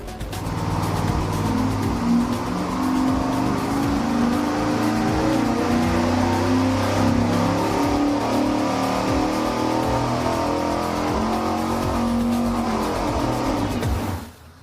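Car engine with stock rocker arms pulling hard on an engine dyno with long-tube headers and a small cam, a loud, sustained roar held steady for about fourteen seconds before cutting off abruptly.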